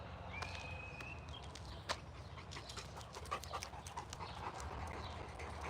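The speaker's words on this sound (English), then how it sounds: "There is 4 dogs." Four Rottweilers at a training session pant steadily nearby, with soft scattered paw steps and shuffling moving around them; no talking is heard.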